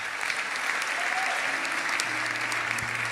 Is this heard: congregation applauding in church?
yes